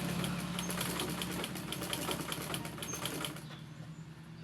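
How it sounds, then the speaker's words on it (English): A sewing machine stitches a senator sleeve placket, its rapid, even mechanical chatter running steadily and close before easing off near the end. "So I'll start sewing."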